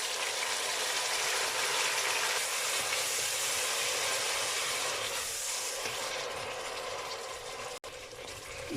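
Onion, green chillies and tomatoes sizzle and fry in a pan, a steady crackling hiss heard close up for several seconds.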